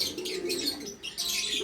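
Pigeons, including a young bird, coo and chirp nearby in soft, overlapping calls that fill the brief moment, with no voices heard.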